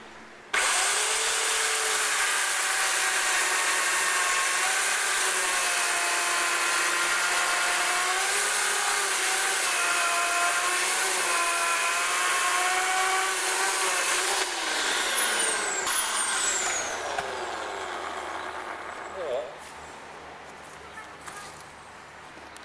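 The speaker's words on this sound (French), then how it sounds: "on entend le bruit de la tronçonneuse" A chainsaw runs steadily at high revs for most of the span, close and loud, its pitch wavering slightly, before it cuts out and trails off into quieter background noise.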